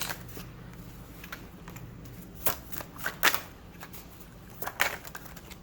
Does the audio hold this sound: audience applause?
no